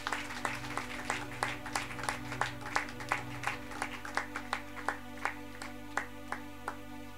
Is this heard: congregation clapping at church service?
yes